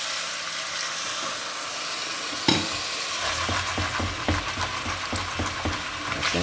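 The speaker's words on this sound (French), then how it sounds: "Je vais gratter au fond." A spoon scrapes the bottom of a pot of wild boar daube, a sudden clank followed by repeated rhythmic scraping strokes over a soft simmering hiss, close and fairly quiet.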